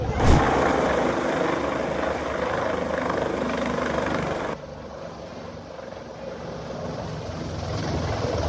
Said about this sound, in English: The pilot displayed good presence of mind and put down the helo on the highway.